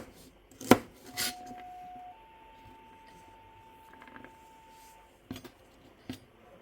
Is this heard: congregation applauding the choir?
no